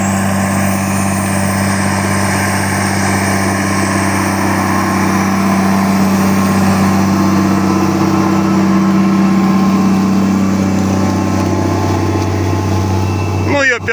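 A Case MX270 tractor pulls a plough at about 8 km/h, its heavy engine droning steadily and loudly throughout with a constant low hum and slight tonal shifts under load.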